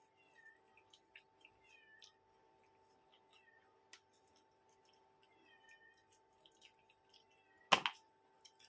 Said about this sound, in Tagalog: Ang aking pusa sa labas.